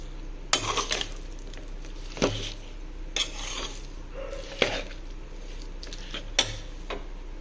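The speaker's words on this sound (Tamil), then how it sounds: "இப்போ அடியில் கொடுத்து நல்லா கிண்டி விட்டுருங்க" A spoon scrapes and stirs lemon pickle masala from the bottom of a pan, giving several sharp metallic scrapes and clinks at irregular intervals over a soft background hiss, close and moderately loud.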